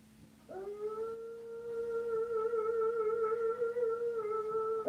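A dog howls a single sustained, steady musical note that rises in at the start and holds strongly and clearly to the end, with no talk.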